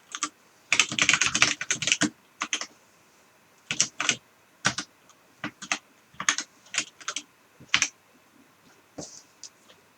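Bursts of keyboard typing while writing C# code, with quick clustered keystrokes and pauses between runs, close and moderately quiet with no talking.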